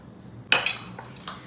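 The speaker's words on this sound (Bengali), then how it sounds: "এইগুলো না ভালো করে মিশিয়ে নিব দইয়ের সাথে" A spoon clinks against a bowl while stirring spices, lemon juice, salt and sugar into yogurt for raita, giving two or three quick bright chinks then a softer tap, close and with no talk.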